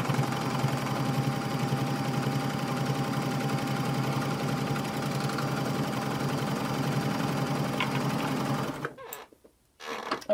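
A PFAFF admire air 7000 coverlock machine sews a test stitch on scrap fabric, running as one steady, even mechanical whir for about nine seconds before stopping, with a few handling knocks at the end.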